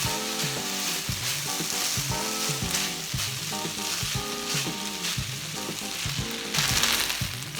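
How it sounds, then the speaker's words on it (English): Sauce bubbles and sizzles against the side of a hot wok beside egg fried rice. The crackle is loud and steady throughout, under background music. "Now let's add the sauce that we mixed earlier on the side of the wok to let it boil before touching the rice."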